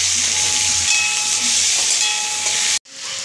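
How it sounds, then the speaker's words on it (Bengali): Onions, tomato and garlic fry in hot oil in a wok, giving a loud, continuous hissing sizzle close by that cuts off abruptly near the end, with no talking. "ছাড়িয়ে কড়াইতে তেল দিয়েছি, এবার এগুলো ভেজে নেব, হাফ ভাজা মতন ভেজে নেব।"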